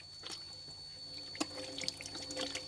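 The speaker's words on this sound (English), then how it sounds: "The hands are simply cleaned with clear water." Hands rinsed clean under clear running water after protective PR88 hand film was used during sanding work; soft steady trickle with scattered drips and splashes, close and fairly quiet, no voices.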